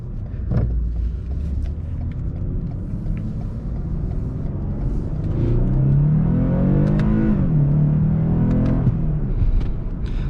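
A 2021 Lexus IS 300 AWD with a naturally aspirated V6 accelerates hard in first gear, its engine note rising in a loud, steady climb from inside the cabin, swelling midway then easing off at the shift.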